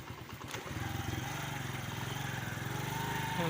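A motorcycle engine runs steadily in a village setting, its mid-pitched chugging holding a constant level close by after a few clicks and knocks at the start.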